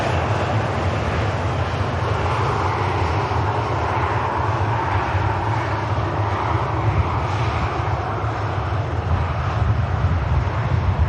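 Aircraft departing Manchester Airport, a steady broad jet engine roar held constant and fairly loud throughout, heard from a distance with no voices over it.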